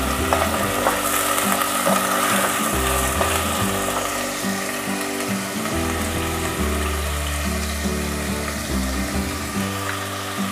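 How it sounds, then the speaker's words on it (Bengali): Mutton is stirred in a pan for a korma cooked in a pressure cooker, giving a loud, continuous frying sizzle with tonal hum and scraping stir strokes throughout and no speech. "মাটনটা দিয়ে ভালো করে নাড়তে হবে।"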